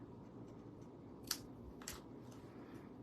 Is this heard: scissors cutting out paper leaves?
yes